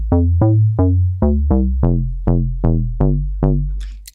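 A Serum synth bass preset in Ableton Live plays ten plucky notes in an even rhythm, each one a bright attack decaying into a deep, buzzy tone, loud and alone.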